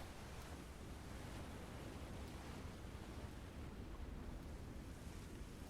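Rough, choppy sea waves in the submarine game Silent Hunter III, a steady broadband wash of surf and wind that rolls on without letup and no voices.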